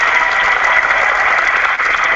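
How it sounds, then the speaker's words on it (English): Hands clap steadily and loudly for about two seconds, a dense continuous burst of clapping with no talking. "I gave him a hand clap"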